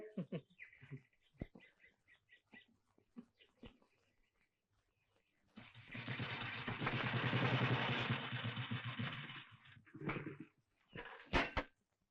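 A car engine cranks but fails to start, giving one sustained grinding, whirring burst of several seconds. Quiet clatter and voices come before it, and more voices follow.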